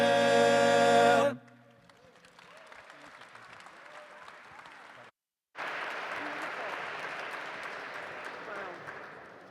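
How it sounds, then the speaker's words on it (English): An audience applauding at the ZOA Superstar Gala 2024, clapping spreading into a broad patter that continues, briefly cuts out, then resumes strongly. "another round of applause, please"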